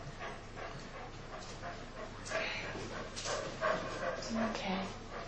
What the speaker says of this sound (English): Can you see the dog here with us?